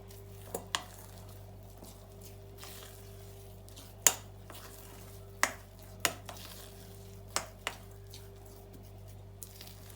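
Quiet stirring of ingredients with semolina in a bowl with a utensil, sharp clinks and taps against the sides every second or so over a low steady hum.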